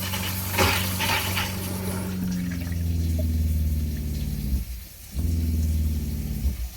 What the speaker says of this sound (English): You can hear the vibration from the water pump all the way in the bathroom.